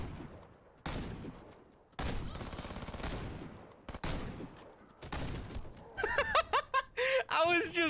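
Benelli Nova shotgun firing in Warface on Nintendo Switch, several heavy booming shots spaced a second or so apart, followed by a voice laughing and snickering near the end.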